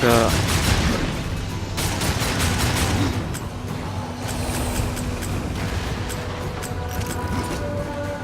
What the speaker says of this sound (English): Yeah, the shooting does nothing.